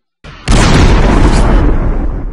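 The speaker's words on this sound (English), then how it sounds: "So just the explosion begins about right there," A loud explosion sound effect for a video edit erupts after a faint lead-in: a sharp, full-bodied boom that sustains as a dense roar, rumbling on and slowly fading, alone with no talk.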